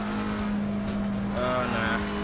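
Race car engine in the Assetto Corsa Competizione racing game, a steady droning tone with a rising whine near the end, close and constant, with a voice talking over it.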